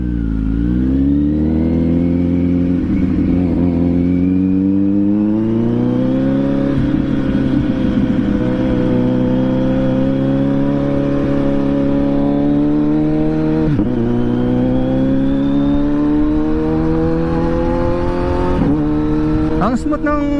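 Kawasaki Z900SE 2025 motorcycle accelerating hard through gears with a quick shifter, the loud close engine note rising steadily then dipping sharply at each quick upshift, about three changes, with wind rush throughout.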